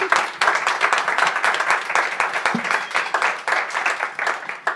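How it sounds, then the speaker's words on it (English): An audience at a panel talk on political prisoners gives sustained, dense applause, many hands clapping steadily at close range. "Applause, just in case."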